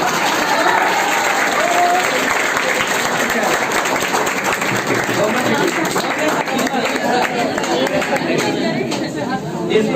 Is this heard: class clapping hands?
yes